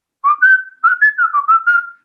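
A person whistles a short melodic phrase solo, clear and close, with several sliding notes over about two seconds and silence around it.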